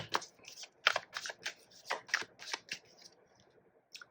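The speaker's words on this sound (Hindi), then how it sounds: "और कार्ड्स निकालते हैं।" Tarot cards riffled and drawn in a series of quick, crisp shuffling bursts and flicks, close and fairly loud, with gaps between and a faint voice at moments.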